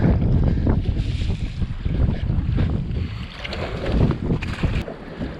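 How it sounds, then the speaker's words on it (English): Steady wind buffeting and water slapping against a fishing boat on the St. Lawrence during a stormy bass tournament, a continuous loud rush with choppy low thumps throughout. "Freaking vortex and the storm, the wind and waves."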